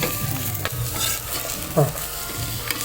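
Orange peel and jaggery sauté in a pan with a close, soft sizzle, broken by a few distinct scraping stirs of a spoon against the pan.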